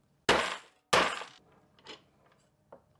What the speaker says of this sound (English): and then just hit it with the hammer.